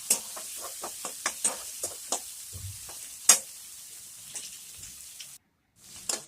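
Chopped onion and garlic frying in a pan, stirred with a utensil, giving repeated close scraping taps and light sizzling crackles, with a short pause near the end.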